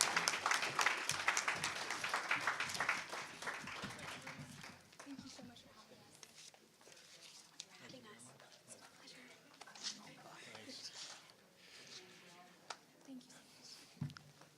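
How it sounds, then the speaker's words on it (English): An event audience gives a round of applause, dense clapping that is loudest at the start and tapers off within a few seconds, then quiet murmuring and speech continue. "I know you gave them a round of applause."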